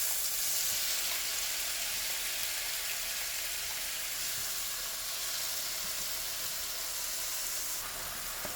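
Tomatoes fry in olive oil in a warmed pan with a dense, even sizzle and hiss that holds steady throughout, close and without talk.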